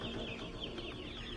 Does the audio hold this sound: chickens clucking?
yes